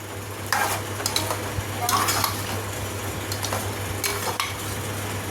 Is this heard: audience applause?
no